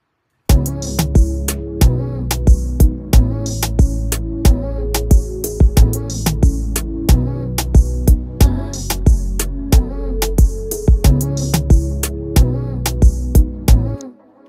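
A full urban modern zouk beat plays steadily, with sharp drum hits on a regular rhythm over layered bass and tones, loud and close with no talking.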